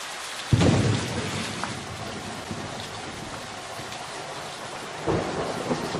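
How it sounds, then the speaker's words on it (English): A thunderstorm with steady heavy rain, a loud crack and rumble of thunder breaking in near the start and another swell later, all over a constant hiss of downpour. "There's a big storm rolling in soon."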